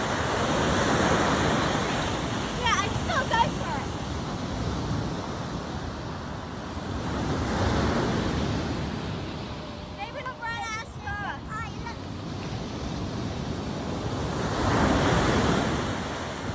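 Sea waves surge and break on a shore in slow, repeating swells, with wind buffeting the microphone and brief voices and chatter of a family nearby.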